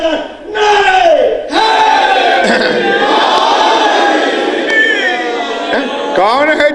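A crowd at a Muharram majlis chants slogans in loud, unified bursts, several voices calling together with a rising, shouting quality, near and sustained across the clip with brief breaks between phrases.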